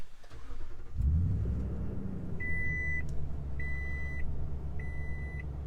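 A 2022 Chevy Silverado 2500HD Z71 started by push button: the engine cranks and catches with a short rev, then settles into a steady idle as three evenly spaced electronic chimes sound over it.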